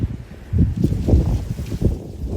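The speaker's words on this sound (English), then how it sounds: "Oh, hold on tight, it's getting windy." Gusty ocean wind buffeting the microphone in uneven low rumbling bursts, steady and fairly loud throughout with no voices.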